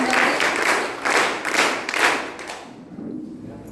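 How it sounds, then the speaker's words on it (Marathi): Audience applause for a teacher who received the President's award, a dense burst of clapping from a gathered crowd that swells in waves and fades out near the end. "मॅडमसाठी जोरदार टाळ्या."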